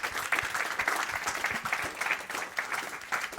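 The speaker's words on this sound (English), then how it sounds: "Let's give them a round of applause." A seated audience at a European carbon removal policy event applauds the panelists, producing steady, dense clapping from many hands that carries evenly for a few seconds at moderate distance.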